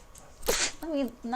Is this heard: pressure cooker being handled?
no